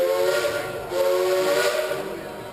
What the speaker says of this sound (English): 2 whistles you just heard